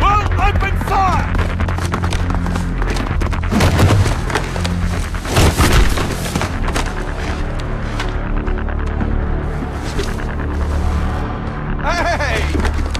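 Heavy gunfire crackles and booms through a Call of Duty Black Ops 4 cutscene, dense bursts of shots and impacts running throughout, with raised, shouting voices mixed in.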